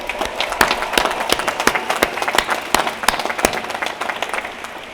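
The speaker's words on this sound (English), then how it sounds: "They deserve a huge round of applause." Applause from a graduation ceremony audience, a steady wash of many hands clapping with a few sharp, loud claps standing out, sustained evenly throughout without any talk.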